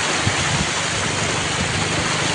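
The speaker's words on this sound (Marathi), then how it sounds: "हवा कशी वाहते बघा. कसं पाणी वाहते बघा. हवा आवाज किती भारी येते बघा." Wind and the steady roar of a flooded river rushing past a bridge form a loud, continuous broadband wash with no breaks, close to the listener.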